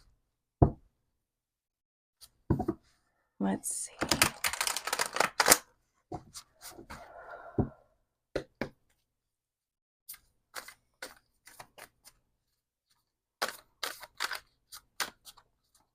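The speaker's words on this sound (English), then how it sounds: "I'm going to give these just a quick shuffle." Tarot cards being given a quick shuffle, heard as sparse taps and clicks, then a dense rippling riffle lasting a couple of seconds, followed by more scattered card slaps and taps, close and fairly quiet.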